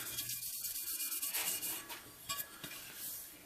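A worn buffer pad polishes aluminum toward a satin finish, giving a continuous close rubbing, whooshing friction with small uneven surges and no voices.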